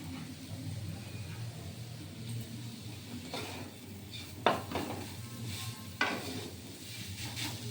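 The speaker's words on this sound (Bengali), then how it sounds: "গাজর আর সুজিটা একসাথে ভেজে নেব" Grated carrots and semolina fry together in a pan for carrot chocolate chip sandesh. Intermittent spatula scrapes and clinks against the pan stand out over a faint, low sizzle, with no speech.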